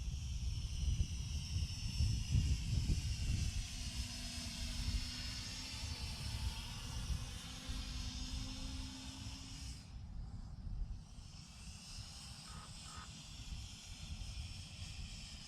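An LMRC LM01 GPS FPV drone flies nearby, its rotors giving a continuous high whine and hiss over wind noise, steady and moderately loud with a brief dip partway through.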